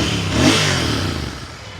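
A Royal Enfield GT650 motorcycle with about 4,000 km on it revs close by in one short, swelling burst that peaks and then settles back into a steady engine rumble.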